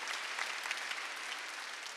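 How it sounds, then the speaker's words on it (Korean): A church congregation at a Wednesday worship service applauds, a steady wash of many hands clapping at moderate, somewhat distant volume with no talk over it. "박수 치라"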